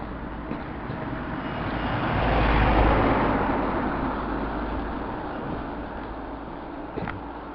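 A single vehicle swells up and passes by on a street, a broad rumbling whoosh that peaks midway and fades, with faint background hum around it.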